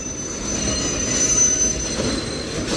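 A Union Pacific mixed freight train's wheels squeal as it slows to a stop: one steady, loud, high-pitched screech held over a continuous rolling rumble throughout, with no voices.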